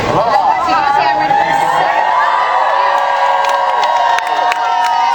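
A large outdoor crowd in Honolulu cheers loudly and continuously, with high whoops and shrieks layered over a dense roar of voices, close and energetic throughout.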